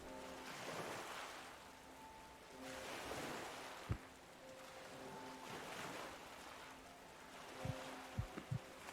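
Ocean breeze and surf wash over a seaside town in the game Lovecraft's Untold Stories, slow swelling waves rising and falling in a steady rhythm, with a few soft low thumps near the end.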